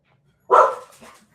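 A dog barks once indoors, a loud, close, harsh bark followed by a softer trailing yelp, with quiet before it.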